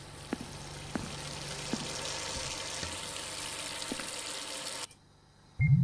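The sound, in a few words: running water in video game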